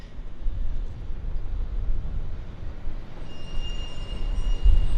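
An Air North Boeing 737-800 jet departing Vancouver International Airport, heard as a steady, broad engine roar from a distance with a thin high whine rising in the last seconds.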